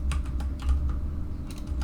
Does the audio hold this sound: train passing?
no